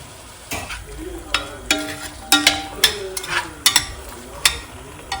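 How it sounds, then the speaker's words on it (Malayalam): Canned chickpeas tipped into tomatoes frying in a pan, a soft steady sizzle broken by sharp scraping and knocking strokes from stirring at close range, irregular and fairly loud, with no talk. "ഇത് ഞാൻ ക്യാൻ ചിക്ക് പീസ് ഇട്ട് കൊടുക്കുന്നു."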